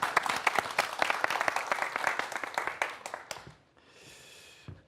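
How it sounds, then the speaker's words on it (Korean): An audience at a lecture event gives a burst of dense, steady applause for about three seconds, then it thins and fades into a quieter room. "박수 부탁드리겠습니다."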